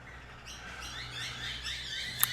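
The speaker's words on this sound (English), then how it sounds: "Listen to those birds." Faint, high chirps from birds come and go at a distance, with a sharper tweet near the end, over a steady low hum.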